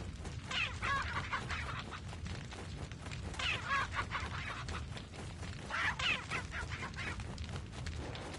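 Chickens in the Resident Evil 4 Remake video game give three separate bursts of clucking and squawking, spaced a couple of seconds apart over a steady game background, moderately faint.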